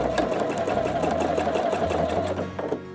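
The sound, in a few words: Pfaff Quilt Expression 720 sewing machine stitching ribbon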